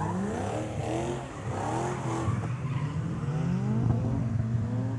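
A BMW V8 drift car slides at speed, its engine roaring and rising in pitch with tyre squeal mixed in, heard at a steady, fairly loud distance throughout.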